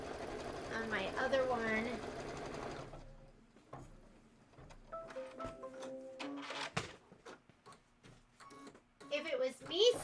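A 10-needle embroidery machine stitches a table topper, its rapid mechanical chatter and whirring coming in bursts after someone talks briefly at the start, close by and moderately loud.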